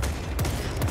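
A pair of muffled gunshots thud in quick succession over a low background rumble, in player-versus-player combat in the video game Space Marine 2.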